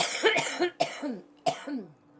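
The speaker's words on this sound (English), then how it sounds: "I'm coughing" A person coughs in three harsh, raspy bursts after taking a dab, each followed by a strained wheezy tail, close to the microphone with no speech.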